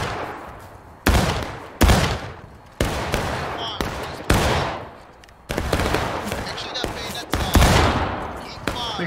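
Musket volleys ring out in the Civil War game War of Rights: about seven loud, sharp cracks, each trailing into a crackling echo, fired at uneven intervals with battlefield noise filling the gaps.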